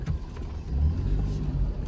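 A Maruti Alto car engine rumbles low and steady while turning on a dirt road in Himachal, with a slight rise in revs and rough, uneven road noise throughout.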